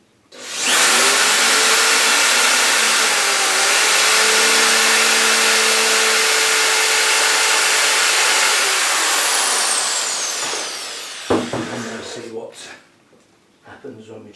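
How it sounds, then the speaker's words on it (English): A power drill whines loudly and steadily for about ten seconds as it bores a hole for a bonsai stand, then winds down, leaving scattered handling noises. "I've got the next size drill up and it looks more like it will do the job"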